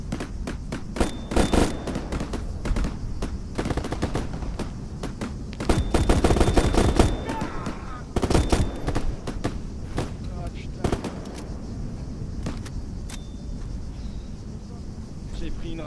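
Airsoft gunfire crackles outdoors in sharp bursts and single snaps during a game, some close and loud, others farther off, with wind buffeting the mic and people talking between volleys.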